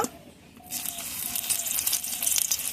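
Pakora dropped into hot mustard oil, a brief quiet pause followed by a rising, bright sizzle that keeps bubbling and crackling steadily close by.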